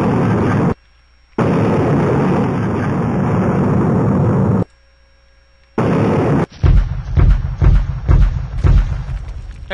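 A bot fires shots in the Unity space game Blasteroids. Loud, harsh blasts of noise with abrupt gaps give way to a rapid run of repeated explosive bursts.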